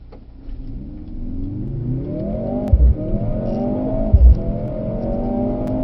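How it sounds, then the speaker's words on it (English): A Mercedes-AMG C63 S E-Performance W206 accelerates briskly on a race track, engine note climbing steadily through rising pitch with two quick upshift breaks, loud and close from inside the car. "nice brisk acceleration up here, and then a nice firm brake"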